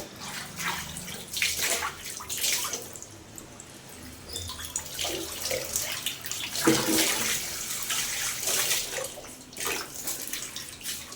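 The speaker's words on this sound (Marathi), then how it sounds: "हा पिण्याच्या पाण्याचा नळ आहे." Water runs from a drinking-water tap in a home kitchen, a steady splashing stream with uneven surges and drips that continues for several seconds and stands alone with no voices.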